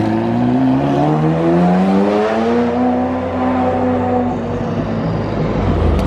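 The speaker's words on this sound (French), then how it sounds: "F40, ça faisait longtemps, ça c'est qui fait du bruit." Ferrari F40 engine revving loudly in Monaco, a sustained deep roar with rising and falling pitch sweeps as the car accelerates close by, dominating the scene with no talk.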